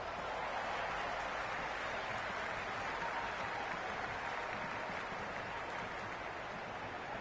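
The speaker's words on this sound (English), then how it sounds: "the crowd have joined the party. It's pretty noisy at the ground." A dense, steady roar of cricket crowd noise in the PS5 video game Cricket 26, cheering and clapping blended into a continuous wash that holds at the same level throughout.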